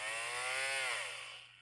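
An electric nail drill with a speed dial whirs at high pitch, its tone rising then sliding down as the motor slows, close and steady with no voices.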